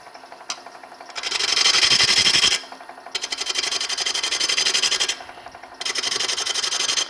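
A woodturning gouge hollows a spinning wood piece on a lathe, giving loud, steady rasping scrapes in three long passes separated by brief pauses, with a faint tap at the start and no talk.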